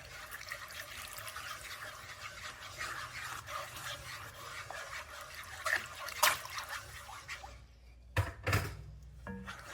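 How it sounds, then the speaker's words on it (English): A splash of extra water pours into a cooking pot of seasoned food, a steady close trickle followed by a few brief sloshes and drips, with no talk. "I'm gonna add even a little bit more water."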